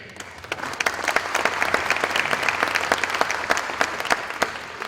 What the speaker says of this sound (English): give a round of applause to all tonight's participating families and individual family members